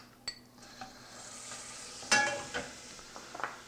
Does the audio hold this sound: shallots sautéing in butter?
yes